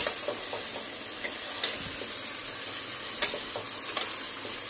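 Chopped tomatoes and onions stir-fry in a pan for chicken biryani, a steady close sizzle with occasional spatula taps and scrapes, no speech.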